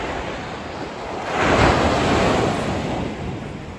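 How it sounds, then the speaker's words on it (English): Ocean waves at a sandy beach, a continuous surf wash with one wave swelling and breaking mid-clip, heard alone with some wind buffeting the microphone. "capture the sound of the ocean for you"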